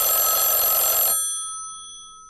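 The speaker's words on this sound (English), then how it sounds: "an early phone ringing sound effect" An unused early phone-ringing sound effect from the video game Poppy Playtime Chapter 3: one dense electronic trilling burst that cuts off sharply, leaving a faint fading tone behind.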